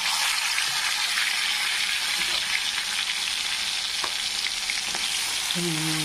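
Chopped onion and tomato frying in a pan, giving a loud, steady, dense sizzle throughout with a few faint stirring scrapes and no talking.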